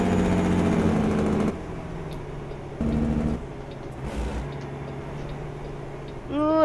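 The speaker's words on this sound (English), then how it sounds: "Get the old exhaust brake in." A heavy truck's exhaust brake engages in American Truck Simulator, a loud steady engine drone that cuts in and out in blocks, with a brief rising tone at the end.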